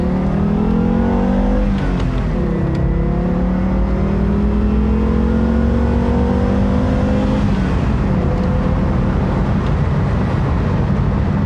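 A 1989 Audi 100 accelerates hard, its engine note rising steadily through the gears with a shift break partway, loud and close throughout with no voices.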